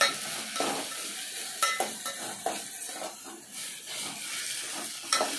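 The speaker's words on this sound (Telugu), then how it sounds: "కొంచెం అల్లం తెల్లగడ్డ పేస్ట్ వేయాలండి." Ginger garlic paste sizzles steadily in hot oil while being stirred for a fish curry, with soft scrapes and clinks of the utensil against the pan and no talking.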